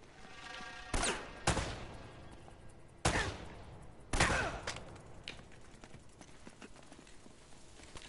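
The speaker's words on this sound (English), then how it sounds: "They're shooting at you too," Gunfire in Uncharted: Drake's Fortune, four loud, separate blasts spaced a second or so apart, each trailing off with a short echo, followed by a few fainter pops and a quieter stretch.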